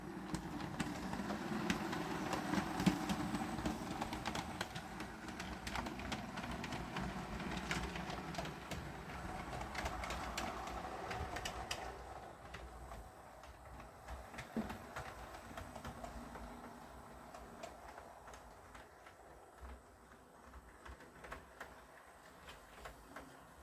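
A 00 gauge model train runs on a terminus layout, giving a steady whirring rumble with light clicking that fades partway through and stays faint and mechanical to the end, with no voices.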